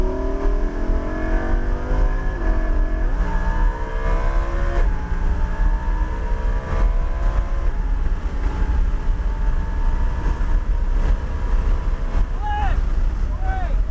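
A car engine revs up steadily as the throttle is rolled on during a driving lesson through a cone course, a rising, continuous drone with strong wind noise and a voice giving instructions.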